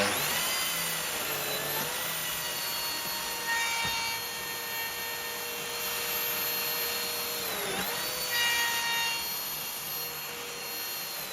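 A Lamello biscuit joiner cuts slots into the side panels of a wooden side table, a high whining motor with a brief rising-falling pitch dip near the middle, moderately loud and alone.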